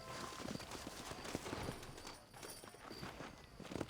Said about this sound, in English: Vamos, caballo vago.